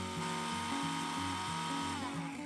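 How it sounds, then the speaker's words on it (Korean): A blender grinds 12 g of dried barley shrimp into a fine powder, its motor whirring loudly and steadily with a high, buzzing drone throughout. "믹서기에 오늘의 또 다른 주인공 보리새우 12g을 넣고 곱게 갈아주는데요."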